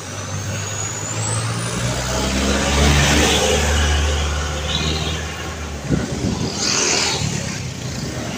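A motorbike cruising along a highway among traffic, a steady engine drone and road rush with passing vehicles, loud and continuous.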